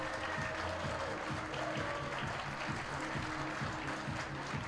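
Crowd applause at a 10-ball pool final in Kielce, a steady wash of clapping held at an even level throughout, with low tonal hum underneath.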